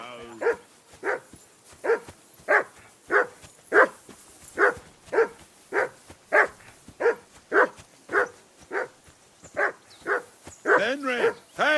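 A dog in the game Peasant Simulator barks repeatedly in a steady, evenly spaced rhythm of sharp yips. The barking is close and fairly loud, and a brief whine or whimper comes near the end.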